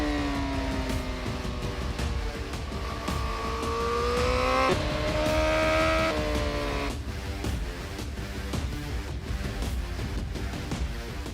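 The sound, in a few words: Honda motorcycle accelerating to top speed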